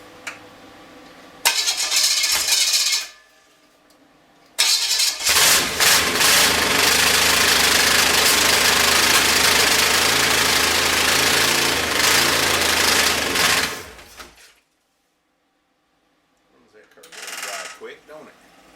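An old small-block 283 engine on a test stand cranks briefly, pauses, then fires and runs loudly for about nine seconds before cutting off, followed by a short second burst of cranking.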